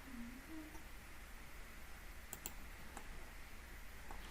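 Mouse clicks while drawing a polyline in CAD software come as a few sharp, isolated taps, close and fairly quiet, over a faint steady hum.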